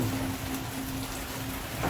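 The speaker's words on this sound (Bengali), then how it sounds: "বৃষ্টি এখনো চলতেছে" Steady rain falls in a soaking downpour on a roadside stop during a trip from Dhaka to Rangpur, a dense, even hiss that holds for the whole two seconds with no talk over it.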